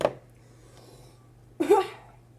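A single short cough bursts out near the end, after a brief sharp sound at the start, over a faint steady hum, while cooking vegetable stew.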